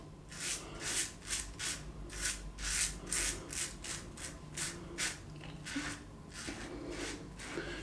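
A Yaqi adjustable safety razor drags through stubble in a quick series of rasping, scratchy strokes, about a dozen close, rhythmic passes with brief pauses between, heard alone near the face.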